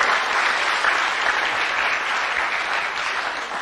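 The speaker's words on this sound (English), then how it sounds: "clap for Benjamin" A graduation audience applauds Benjamin with a steady, full round of clapping from many hands, even and sustained throughout with no speech on top.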